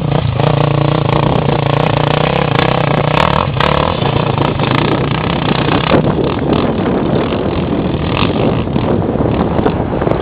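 A motorcycle engine runs loud and steady close by, a broad continuous roar with some rises in pitch as it revs, and nobody speaks.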